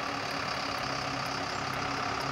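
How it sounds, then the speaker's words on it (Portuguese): A truck engine pulls a vehicle stuck in the mud on an unpaved road toward Lago Azul, a steady, dense, close drone with a faint rhythmic pulse and no voices. "Aí, o caminhão puxando aí, ó."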